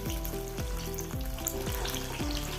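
Banana fritters (pazham pori) in a rice-flour batter fry in hot oil with a loud, dense, continuous sizzle and bubbling, close and with no voices.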